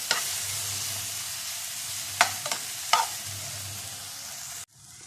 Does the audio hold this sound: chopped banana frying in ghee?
yes